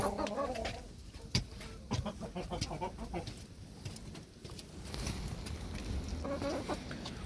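Hens clucking and cackling at a distance amid soft outdoor background noise on a spring evening, with scattered sharp calls and pecking sounds.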